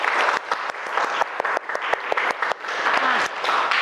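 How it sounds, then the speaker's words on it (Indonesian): A classroom audience of students claps together in a brisk burst of applause lasting a few seconds, with scattered sharp individual claps standing out. "Kita tepuk tangan semuanya"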